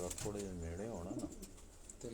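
Large fancier's pigeons in Jhetha Haveli, Hazara, coo steadily and close by in low, throaty, warbling runs while people talk nearby.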